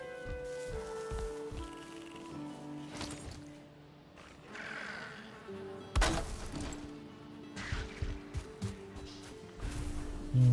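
Bees buzz in the Valheim video game, a continuous insect drone layered with game music and effects, steady and fairly faint throughout, with no talking.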